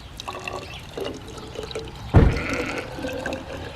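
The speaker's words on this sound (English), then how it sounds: "going to proceed to pour out 100 mils of acid" Acid being poured into a laboratory beaker for a stomach-acid demonstration: soft trickling and a brief louder splash midway, then gentle liquid sounds, with no voices.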